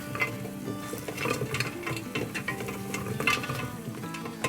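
Coriander powder masala being stirred in a pan, with repeated scraping and clinking strokes of a spoon over a low sizzle, close and moderately loud, with no voices.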